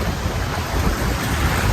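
Ocean waves at New Brighton Beach in Christchurch, a steady broadband surf wash with wind buffeting the microphone, continuous and fairly loud throughout with no voices.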